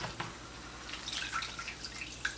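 Water dripping from kneaded sauerkraut as it drains, a scatter of small close drips and trickles with a quick splash early on, fairly quiet and without talk.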